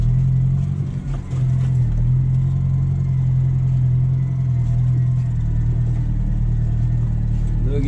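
Tractor with a Massey Ferguson and a Brochard manure spreader driving across a field, heard as a steady low engine rumble with slight revving, continuous and fairly close throughout.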